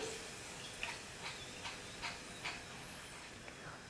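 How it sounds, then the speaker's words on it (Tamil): Cashews sizzling in hot oil in a pan while making a bakery-style chana dal snack: a steady low frying hiss with faint crackles and occasional soft pops, heard alone at low level. "இப்போது முந்திரி கொஞ்சம் எண்ணெயில் போட்டு வறுத்துக்கிறேன்."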